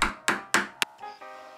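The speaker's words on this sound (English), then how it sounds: "I'm finding the center here and using another awl to make a mark." An awl struck to mark the center of a piece of wood: four sharp, close taps in quick succession, then fainter handling noise, with no talking.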